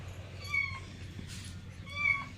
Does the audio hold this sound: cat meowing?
yes